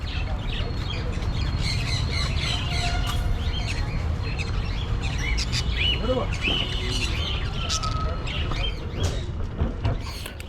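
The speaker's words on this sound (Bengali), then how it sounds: "আর এদিকে তোমরা বদ্যি পাখি দেখতে পাচ্ছ" A dense chorus of budgerigars at a bird market squawks and chirps nonstop, many birds chattering at once nearby in a busy, high-pitched flurry.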